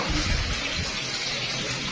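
Water gushes steadily from a tap into a basin being filled for hand-washing laundry, a close, even rushing splash with no one speaking.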